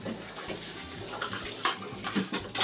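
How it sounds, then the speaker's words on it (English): Water is poured into a bowl of dry cat food, giving a soft, close trickle and splashing with a few brighter spurts near the end, fairly quiet with no talk. "we put water in their food to force them to"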